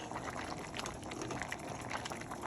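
A pot of collard greens with smoked turkey simmers quietly, a soft, steady bubbling and faint liquid gurgle with small pops throughout.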